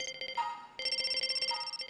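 A loud electronic phone ringtone rings in the game I/O revision II, a bright repeating melodic trill that pulses rapidly for about two seconds, alone without talk.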